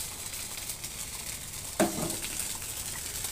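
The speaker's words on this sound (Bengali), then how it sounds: "এটা দিয়ে ধনিয়া আদা দিয়ে দিলাম, পাঁচ ফোড়ন দিয়ে তেলে" Coriander, ginger and panch phoron spices sizzling in hot oil, a soft, steady frying hiss with a brief clatter partway through and no talking.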